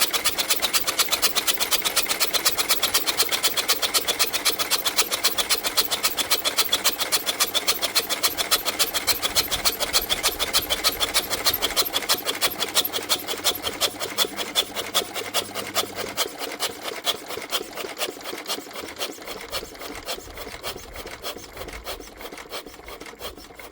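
An old barn-find Lister engine is turned over by hand, giving a rapid, regular rasping clatter that runs loud and steady, then gradually fades and slows toward the end, with no talking.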